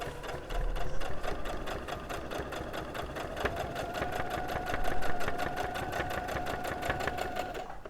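Sewing machine stitching at a steady rapid pace while quilting a Liberty fabric dress quilt, its needle clatter running continuously and close for several seconds with no talk over it.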